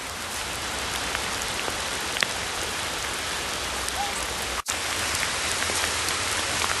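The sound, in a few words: heavy rain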